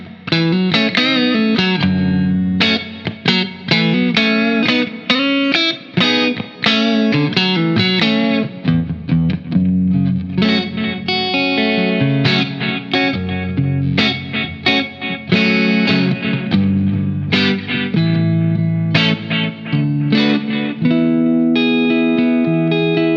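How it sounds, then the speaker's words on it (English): A Henry's ST-1 Strat-style electric guitar plays clean through a Fender Hot Rod Deluxe amp with reverb and delay pedals, ringing chords and melodic notes that sustain and trail off in spacious echoes, loud and continuous with no talking. "let's hear some classic clean Fender sounds from the Hot Rod Deluxe, and I will use a reverb and a delay pedal"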